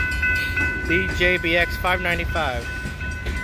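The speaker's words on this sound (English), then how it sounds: "This is gonna be a long train with 2316 leading." A long freight train passes with locomotive 2316 leading in North Salem, Oregon, a steady rumble under a continuous radio or scanner voice and some talk, with faint tonal ringing throughout.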